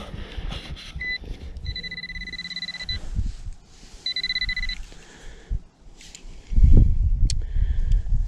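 Two steady, high electronic tones from a metal detector over a deep button in English soil, each about a second long, over outdoor rustling and handling noise, with louder scraping toward the end.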